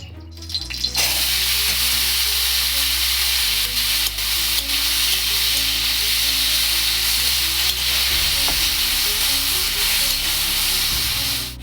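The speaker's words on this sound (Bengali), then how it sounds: "অল্প তেল দিয়ে একটু আলুটা ভেজে নেব" Potatoes sizzle and fry in a little oil in a home kitchen pan, a steady, close, dense crackle that runs unbroken throughout with no talking.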